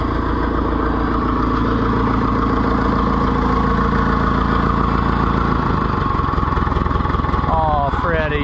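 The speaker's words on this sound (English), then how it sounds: "Oh, Freddy, you idle down good. Listen to that little thing" Oliver 1450 tractor engine idling down with a steady low, throbbing rumble that holds strong and close, its pitch dropping and settling near the end.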